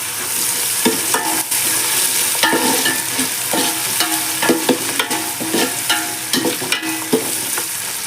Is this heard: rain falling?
no